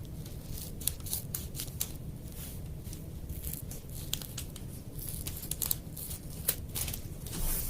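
Scissors snip through paper stickers backed with wax paper during a children's summer reading craft, a steady run of soft crisp cuts and paper rustles up close, with no talking.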